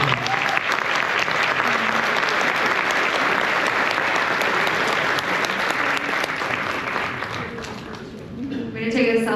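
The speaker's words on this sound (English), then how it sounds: "Let's get them a big round of applause." A seminar audience breaks into sustained applause, a dense wash of many clapping hands that holds steady for several seconds before thinning, as voices rise and talk resumes near the end.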